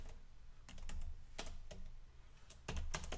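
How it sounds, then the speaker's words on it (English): Typing on a computer keyboard in a quiet room, with bursts of soft clicking keystrokes and short pauses between them. "I will write down Peter"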